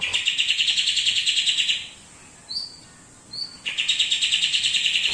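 Loud, sweet song of a white-rumped shama repeating rapid phrases, pausing briefly around two short whistled notes, then resuming with the same bright trilling pattern.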